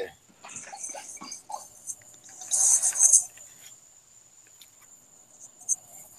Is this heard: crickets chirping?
yes